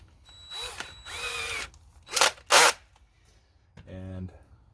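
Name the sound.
cordless drill with wood drill bit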